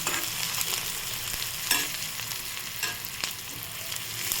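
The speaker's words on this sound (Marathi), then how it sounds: "हे सगळं परतून घ्यायचं छान।" Egg bhurji spices with salt and chilli powder sizzling and frying in a pan while being stirred, a steady close crackle with occasional scraping stir strokes and no talk.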